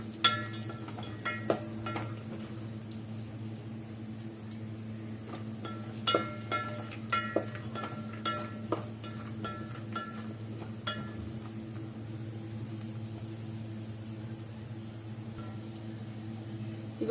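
Carrot pieces frying in ghee in a pan for carrot payasam, a steady soft sizzle with occasional light stirring clinks and scrapes, close and continuous with no talking.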